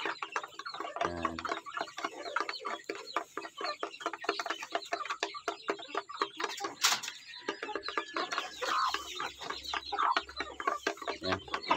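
Five native backyard chickens cluck softly while feeding quickly, with rapid ticking pecks at their food running steadily throughout, close and fairly quiet, alone without talk.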